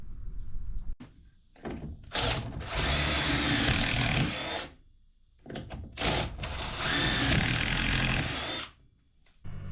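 A power drill drives screws to join wooden pieces, with two long, loud whirring bursts separated by short pauses and knocks, heard close by.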